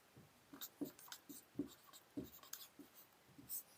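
Pen or chalk scratches out notes during a Class 6 science lecture, a faint close series of short irregular strokes and taps with pauses, with no talk.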